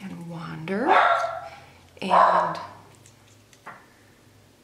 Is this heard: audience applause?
no